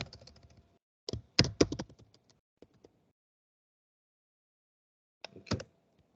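Short bursts of typing on a computer keyboard, quick clustered key clicks close up, separated by a long pause of near silence.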